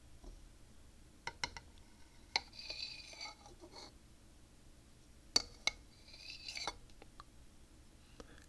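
A metal spoon clinks and scrapes against a bowl in scattered, sharp, delicate taps with soft scraping between them, close and quiet in a hushed room.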